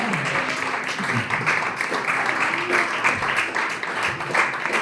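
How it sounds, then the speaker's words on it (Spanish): A church congregation breaks into lively applause for Jesus, a dense, continuous patter of many hands with scattered voices and cheers mixed in throughout. "Vamos a dar un aplauso a Jesús"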